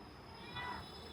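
A pet cat gives a short, faint meow for attention, a single brief call rising over low background noise.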